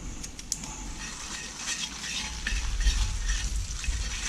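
Chicken and vegetable stir fry with cooked egg is stirred and tossed in a sizzling pan, with steady frying hiss, a few sharp utensil clicks early on and louder scraping and stirring toward the end, close up with no talking.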